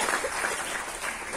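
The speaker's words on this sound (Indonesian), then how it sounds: "Tepuk tangan buat pemerintah Kota Surakarta." Guests at an art exhibition opening in Surakarta clap together, a brief burst of broad, even applause at moderate volume with no voice over it.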